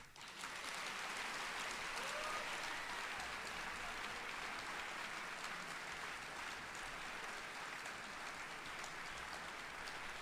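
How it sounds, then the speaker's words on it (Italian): An audience at a Holocaust Remembrance Day event claps freely, with dense, steady, loud applause from a full room that carries on for about ten seconds without a break. "Adesso per favore fate un battimani libero."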